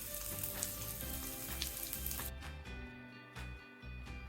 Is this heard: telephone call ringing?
no